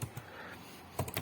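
Typing code on a computer keyboard, a few quiet key taps at the start and a short cluster near the end with a soft pause between, close and faint with no talking.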